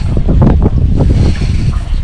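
Water gushes into a caravan's water tank at a bush camp on Australia's Limestone Coast, a loud, close, continuous rushing roar with no talk.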